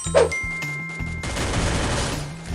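A submachine gun in Free Fire fires rapid bursts, a short volley of sharp close shots followed by a sustained rattling stream of gunfire.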